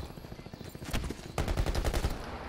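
Gunfire in Call of Duty Black Ops 4 Blackout mode: a rapid automatic burst starts near one second, then a second, louder stretch of fast repeated shots from about 1.4 seconds to the end, fairly near.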